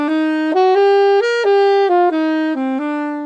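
Solo saxophone practice line alternating long held tones with short clipped notes, bright and close, about eight pitches in a smooth rising-then-falling sequence.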